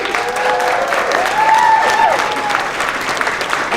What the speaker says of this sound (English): Can everyone please give a round of applause to our patients who are here tonight?